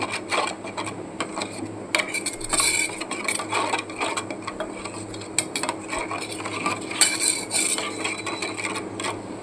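A utensil scrapes and clatters against a pan while hilsa fish masala is stirred into added water, giving irregular scraping and rubbing strokes at moderate volume, with no talking.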